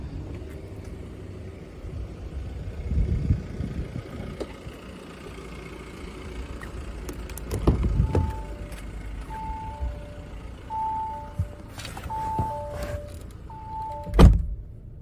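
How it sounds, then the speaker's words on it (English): A 2018 diesel car with automatic transmission and an electric boot: low mechanical rumbles and a few thunks, followed by a steady series of short electronic beeps as the boot operates, close and moderately quiet. "As we approach the boot, we can see that it's electric."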